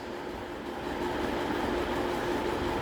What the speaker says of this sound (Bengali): ওই যে মেট্রো রেল এসে পড়েছে